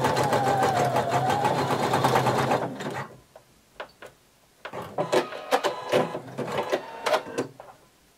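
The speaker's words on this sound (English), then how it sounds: "overlap 5/8 of an inch using a very wide zigzag stitch" Sewing machine running a very wide zigzag stitch on overlapped swimsuit elastic: a steady, fast whirring run for almost three seconds, then short stop-start bursts of stitching, close by with no talk.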